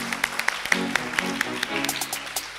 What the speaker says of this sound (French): les mamans applaudissent pour vous.